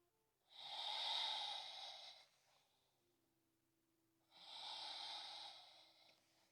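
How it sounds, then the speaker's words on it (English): Two slow, steady breaths during a morning yoga warm-up flow, each a long airy inhale or exhale lasting over a second, close and clear, with a quiet pause between them and no talking. "Breathing as you move through."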